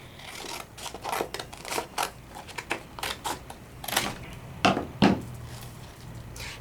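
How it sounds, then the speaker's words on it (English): Crisp snipping of scissors through paper, a run of quick irregular cuts close to the mic, with a few sharper snaps near the end. "I'm just gonna take my scissors and cut."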